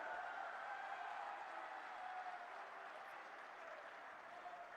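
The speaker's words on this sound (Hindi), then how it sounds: "जोरदार तालियों से अपने प्रिय नेता का स्वागत करिए" A rally crowd in Gohana applauds to welcome Prime Minister Narendra Modi, a dense wash of distant clapping heard faintly and steadily, easing slightly toward the end.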